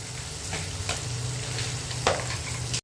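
Spices sizzle in hot oil in a pan for egg curry, a steady, close frying hiss with a few brief clicks and stirring scrapes and no talking.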